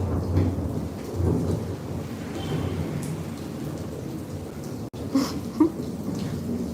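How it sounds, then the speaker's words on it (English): Steady rain hisses through a thunderstorm while low thunder rolls and rumbles continuously, with a couple of sharper cracks near the end; no voices. "We're gonna let the storm pass."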